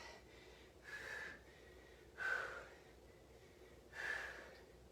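Three slow, breathy exhalations come at even intervals during a workout stretch. They sound close but soft, with quiet pauses between them and no talking.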